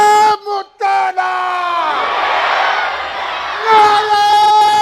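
At a large MQM political rally in Karachi, a crowd answers a leader's call with loud chanted slogans. A voice opens alone with several short shouts, then the mass of the crowd roars back in a long sustained response.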